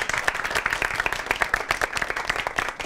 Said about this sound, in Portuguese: Uma salva de palmas pra Julie mais uma vez.